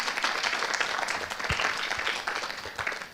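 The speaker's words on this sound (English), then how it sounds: "So give a round of applause to them." Audience at an annual community event breaking into applause: a dense, steady wash of clapping from many hands lasting a few seconds, moderately loud and close, with a few faint voices mixed in.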